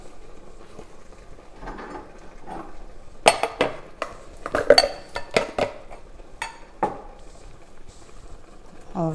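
A collard greens mixture goes back into a cooking pot, bringing a scatter of sharp metallic clanks and utensil scrapes against the pan, clustered in the middle and surrounded by quieter kitchen handling.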